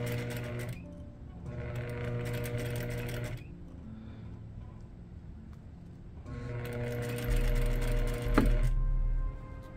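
A sewing machine straight-stitches a lace wedding-dress sleeve in two steady whirring runs separated by a quiet pause, close and clear with no talking.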